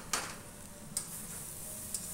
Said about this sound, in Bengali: এবার শুধু নাড়ার পালা, মানে শুধু নাড়তে হবে যতক্ষণ না এটা পুরো একটা ভাজা ভাজা একটা তরকারি হয়ে যাচ্ছে।